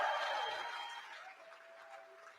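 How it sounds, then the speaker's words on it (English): An audience at a team-growth event claps, a dense burst of applause that is loudest at the start and gradually fades over a couple of seconds. "No, clap it louder."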